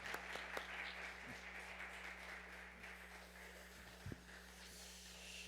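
Faint applause from a church congregation at a revival service, a soft continuous patter of clapping heard at a distance, with no talking.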